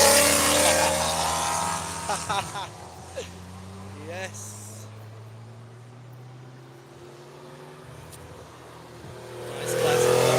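Ferrari race cars out on a circuit, engines revving and accelerating in bursts early on, then a long fading drone of cars passing at a distance, with people talking briefly over it.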